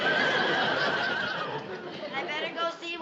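A horse whinnies loudly and long in a domestic sitcom setting, a shrill, wavering neigh that trails off into lower snorts while people murmur underneath.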